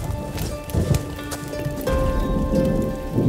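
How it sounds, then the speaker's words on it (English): Heavy rain pouring steadily on a remote jade mining camp, a dense continuous patter with drops hitting surfaces close by, no voices. "It's been raining all day, it's been pouring."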